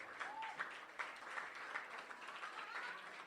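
An audience at a poetry slam claps in steady, sustained applause, a dense roomful of hands heard from inside the crowd with faint cheering mixed in.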